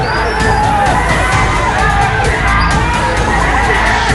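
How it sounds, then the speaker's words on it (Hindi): Supporters of MLA Raja Singh, clashing with police over replacing a statue, form an unruly crowd that yells and whoops continuously, a loud, chaotic wall of shouting voices with no single speaker standing out. "नौबत हाथापाई पर आ गई, भीड़ बेकाबू होती गई"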